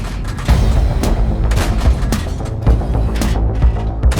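Tank cannon fire in the World of Tanks video game, a series of heavy booming shots in quick succession, loud and close over rumbling background battle noise.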